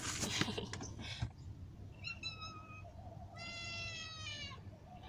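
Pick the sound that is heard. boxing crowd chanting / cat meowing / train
cat meowing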